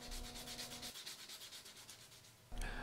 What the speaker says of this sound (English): I'm going to finish off the rounding of the edges with sandpaper, and this is grit 60